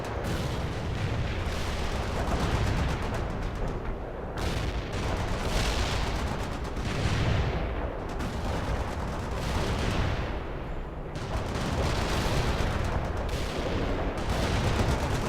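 World in Conflict battle audio with artillery and missile fire, a continuous loud barrage of booms, blasts and rolling gunfire that fills the whole stretch with almost no letup.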